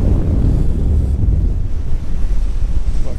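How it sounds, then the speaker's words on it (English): Strong wind buffets the microphone at the seaside in South Ayrshire, Scotland, a steady loud roar with rushing surf-like noise throughout and no talking. "It is a bit windy today."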